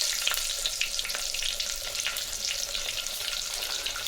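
Small onions dropped into hot oil with mustard seeds for a taro root kuzhambu, a loud, crackling sizzle with sputtering pops, close and continuous.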